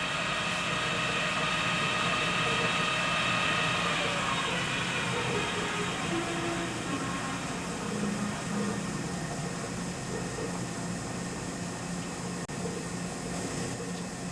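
A Cozart feedwheel system runs at slow dressing speed, making a steady, fairly quiet mechanical whir and hum with a faint high whine, continuous and even throughout with no talking.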